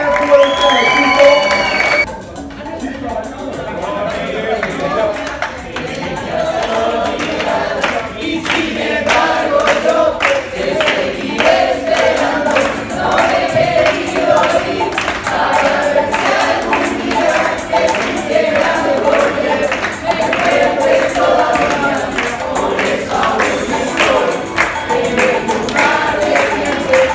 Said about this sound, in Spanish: vamos a darle un aplauso fuerte, fuerte, fuerte al equipo